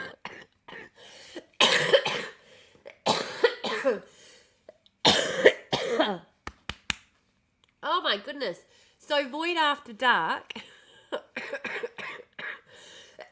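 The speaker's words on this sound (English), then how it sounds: "Oh, sneezing, coughing." A person coughs in several sharp, close bursts between stretches of their own talking and exclaiming.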